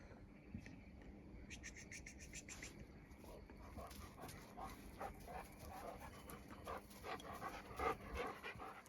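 A dog pants rapidly and steadily close by at night, with faint insect chirping in the background and a few soft whimpers.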